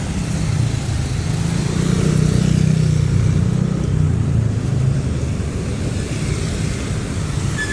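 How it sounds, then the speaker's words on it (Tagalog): Steady low rumble of city road traffic, with dense engine drone and wind noise continuing throughout, no voices standing out. "Traffic na."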